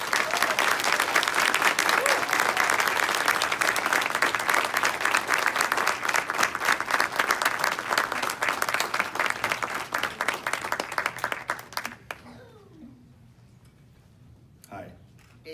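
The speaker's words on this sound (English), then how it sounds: "why don't we give him a round of applause as I invite him up, Mr. Terry Brooks." A spotlight panel audience gives a guest a long round of applause, dense and steady for about twelve seconds before fading out, followed by quiet room sound with a little talk.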